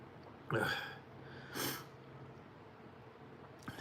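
Burps after eating hot peppers, two short bursts close up and fairly loud, with a faint third at the end, with no talk between them.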